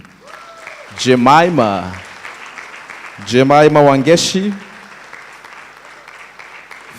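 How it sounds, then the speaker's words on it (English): A graduation ceremony audience applauds an award winner in cloud and network security, a steady crowd clapping running under a presenter's loud announcement and carrying on faintly after the voice stops. "A round of applause for Jemima."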